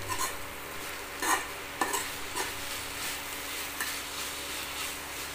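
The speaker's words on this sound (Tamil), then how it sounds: "கொஞ்சம் நேரம் அப்படியே வதங்கட்டும்" Spring onion greens sauté in a hot pan for a children's dish, a steady soft sizzle running throughout while a spoon scrapes and stirs in a few sharp clinking strokes.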